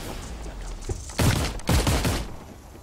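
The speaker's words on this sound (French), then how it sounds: "J'entends des coups de fusil par là!" Rifle gunfire in the distance, a few muffled cracking shots in quick succession over steady background noise, no voices during the shots.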